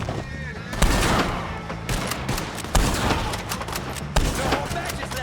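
Gunshots in Red Dead Redemption 2 during a shootout with the O'Driscolls, several loud sharp blasts spaced a second or so apart over a noisy background, with voices shouting in between.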